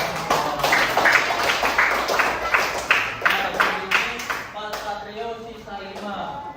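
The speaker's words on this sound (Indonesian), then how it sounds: "Tepuk tangan buat kita." Children clap together in a classroom in a run of sharp, fairly rhythmic claps lasting several seconds, then it fades as a voice and chatter come in near the end.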